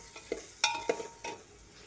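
Masala roasting in oil for a ridge gourd dish, a brief soft sizzle broken by a few sharp spatula clinks and scrapes, close and quiet.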